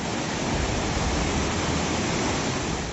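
Rushing floodwater after a cloudburst roars as a loud, steady, unbroken torrent, close and dense with no voices.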